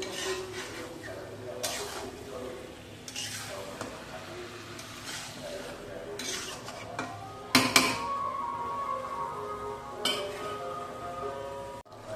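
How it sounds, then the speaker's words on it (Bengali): Mutton being stirred in a cooking pot, intermittent clinks and scrapes of a utensil against metal over a faint sizzle, with a sharper clatter near the middle and some speech in the background. "এবার একটু নাড়াচাড়া দেবো"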